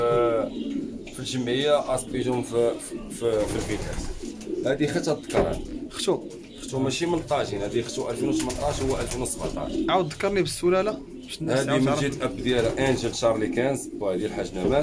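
Pigeons at a breeder's loft coo repeatedly near the microphone, their soft rolling calls running under continuous Arabic talk from a man.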